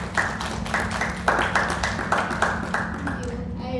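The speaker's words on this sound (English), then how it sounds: "Let's give her a round of applause." An audience at a university speaker event claps in a steady patter of applause at moderate distance, with a voice talking over it.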